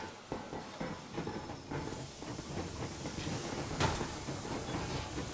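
The Yermak steam train in Metro Exodus rolls along with rhythmic rail clatter and a steady hiss of steam, close and continuous, with a sharper burst of steam near the middle.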